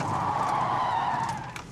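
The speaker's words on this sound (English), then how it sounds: "Steering hard the other way releases that coiled spring's energy with such force, a spin out occurs." A car spins out as its tires skid and squeal across the pavement, one sustained loud screech lasting under two seconds, close and alone, during a driving test.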